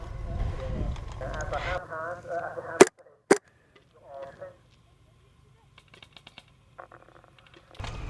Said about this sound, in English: Sniper, take your shots.